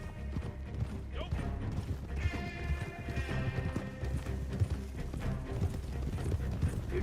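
Horse hooves galloping in the video game Red Dead Redemption 2, a continuous rhythmic clip-clop with creaking tack and a brief whinny, beneath a busy game soundscape.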